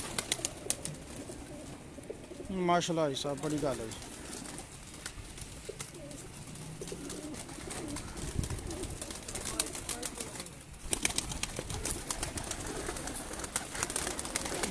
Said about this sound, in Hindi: ਇਹ ਸ਼ਾਇਦ ਇਹ ਡੱਬ ਵਾਲੇ ਕਬੂਤਰ